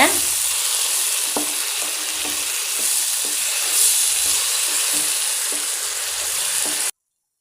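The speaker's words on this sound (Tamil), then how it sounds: "வெங்காயம் தக்காளிக்கு தேவையானது உப்பு சேர்த்துக்கோங்க நல்லா வதக்கிக்கோங்க" Onions and tomatoes sizzle and hiss in a hot pan, with occasional scraping stirs, steady and close throughout before cutting off abruptly.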